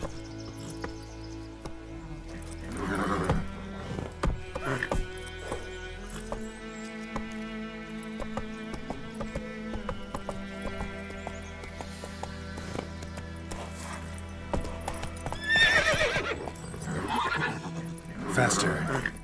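Roach, a horse in the video game The Witcher 3: Wild Hunt, neighs and whinnies over swelling game music and ambient effects, with faint hoofbeats and a voice present.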